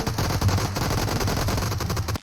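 Rapid automatic gunfire from PUBG Mobile rattles in a dense, continuous burst at close range and high volume, ending abruptly after about two seconds.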